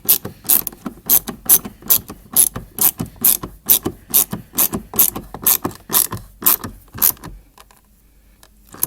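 Around twenty evenly spaced ratchet clicks come from a tool with a T30 bit turning a screw by hand in a Mercedes B-Class W245 door panel. The clicks are crisp and close, then stop for the last second and a half.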